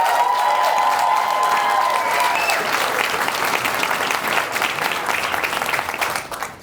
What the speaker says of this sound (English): give a round of applause for putting it together